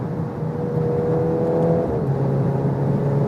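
A VW Golf R 20th anniversary special edition drives at high speed in racing mode, heard from inside the cabin as a steady engine drone with rising wind and road roar, without talk.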